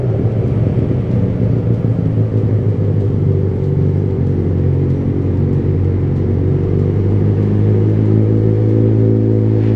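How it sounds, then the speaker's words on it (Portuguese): A Yamaha XJ6 motorcycle engine rumbling steadily up close while riding through a city, a loud, constant low throb with no break for nearly ten seconds. "dá pra escutar o barulho da moto gostoso"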